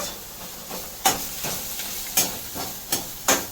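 A mildly spiced kids' snack is lightly fried in a pan, giving a soft steady sizzle broken by several sharp scraping stirs at irregular intervals.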